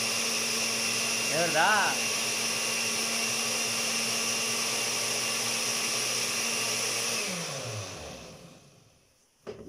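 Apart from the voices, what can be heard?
blender blending rice, milk and cinnamon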